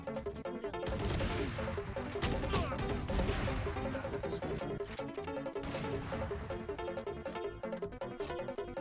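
Dense, continuous gunfire from the video game Valorant, with rapid overlapping shots and crashes sustained loudly throughout, and no speech.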